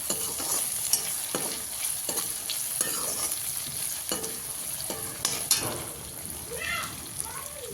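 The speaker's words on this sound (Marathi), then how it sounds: "आता ह्याच्यामध्ये आपण फ्लावर टाकून घेऊया फ्लावर टाकून घेतलेला आहे आता आपण याचा हलवत राहायचं सारखं" Cauliflower and other vegetables are stirred in a pan for pav bhaji, with a spoon scraping in repeated strokes over a soft, continuous sizzle and a faint background voice.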